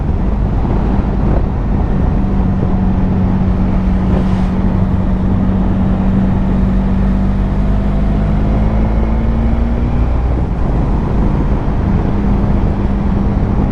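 A Honda Pan European ST1100 motorcycle rides at steady highway speed, with loud continuous wind rush over a low, even engine drone and no talking.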